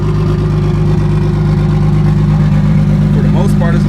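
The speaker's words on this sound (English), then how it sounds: "I forgot I had the car idling at 1K RPM, so that's why it sounded like that." A BMW 335i fitted with a big turbo idles at about 1000 RPM, a loud, steady low rumble with a constant hum throughout and a brief faint chirp near the end.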